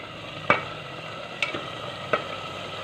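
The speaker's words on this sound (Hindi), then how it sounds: "हम अच्छे से मिक्स करेंगे और 10 मिनट के लिए हम इसे भून लेंगे, फ्राई करेंगे" Chicken karahi biryani masala with bay leaves being stirred and fried in a pan, heard as three short, sharp spoon scrapes over a faint steady sizzle.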